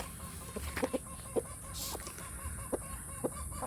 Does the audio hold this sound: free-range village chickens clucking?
yes